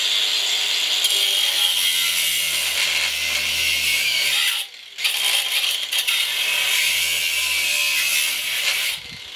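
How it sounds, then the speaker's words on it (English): Angle grinder making a relief cut through an electric motor casing being scrapped for copper, a loud, continuous metallic whine with one brief pause midway and a drop-off near the end. "the easiest way, angle grinder again."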